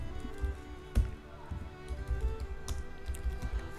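Keys tapped on a computer keyboard while a word is typed into a Photoshop text tool, a quiet, irregular run of soft clicks with a sharper tap near the start.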